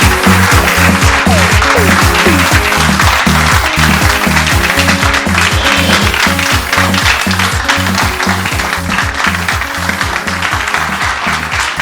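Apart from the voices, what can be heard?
audience applause, standing ovation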